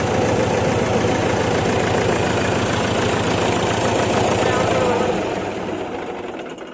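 A Mahindra 575 DI tractor's diesel engine idles loudly with a steady, knocking chug, running evenly before the sound begins to fade toward the end.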